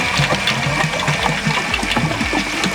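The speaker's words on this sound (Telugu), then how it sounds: "ఇప్పుడు బ్యాటరీస్తోని ఫస్ట్ మోటార్ని అయితే రన్ చేస్తున్నాం" A battery-powered motor drives a water pump, humming steadily up close while water gushes and splashes along with it, and no voices are heard.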